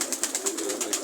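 Pigeons at a farm coo in quick repeated pulses, a soft rhythmic burbling call close by with no talk.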